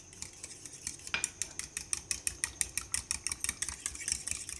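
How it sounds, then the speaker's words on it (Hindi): Eggs and milk are beaten in a bowl with a utensil, producing a quick, regular series of close clinking taps against the bowl that speeds into a steady whisking rhythm. "व्यूअर्स, अंडों को बीट कर लेंगे और ये 4 टेबलस्पून दूध इनमें शामिल करेंगे"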